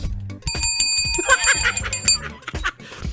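A bell rings in a shop near a flood-barrier site in Noveleta, several bright sustained metallic rings in quick succession, with a person laughing and talking underneath.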